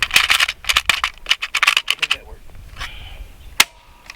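A Hatsan Blitz .30 air rifle fires JSB Hades pellets in a rapid full-auto burst of sharp, close cracks lasting about two seconds, followed by a pause, a faint mechanical whine and one final snap.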